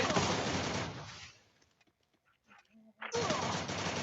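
Dense bursts of rapid automatic gunfire from the Free Fire video game open and close a brief gap. In the quiet middle stretch, faint clicks and a few shots can be heard.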